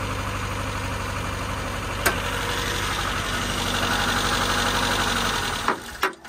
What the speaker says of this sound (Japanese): 今、アイドリングは上がってるんですけど、燃料ポンプ多分いってんだろうな